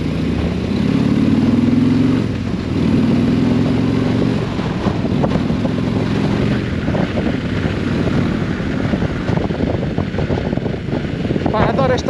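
A Harley-Davidson Street Glide Special in sixth gear at low revs, its V-twin pulling steadily as the throttle opens, a loud continuous rumble mixed with heavy wind buffeting; someone talks over it throughout.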